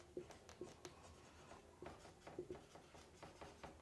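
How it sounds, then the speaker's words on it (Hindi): Chalk or marker tapping and scratching on a board during a physics lecture, quiet irregular strokes and taps in short clusters, with no speech over them. "लेट यहाँ पे लिखते हैं"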